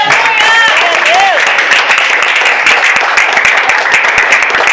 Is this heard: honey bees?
no